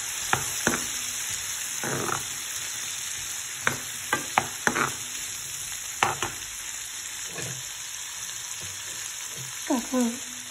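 Boiled potatoes frying in a pan while being stirred, a constant sizzle with intermittent scraping and clacking of a spoon against the pan, close and fairly loud.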